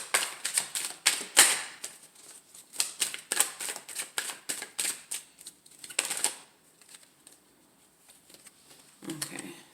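Tarot cards are shuffled and drawn in quick, close riffling bursts and soft flicking taps, pausing briefly before a final flurry.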